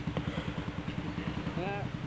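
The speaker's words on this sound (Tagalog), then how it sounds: "umandar na yung ating motor" Rossi 150 motorcycle engine idling steadily after a Lifan 110 CDI conversion, a close, even putter of regular firing pulses with a brief whine near the end.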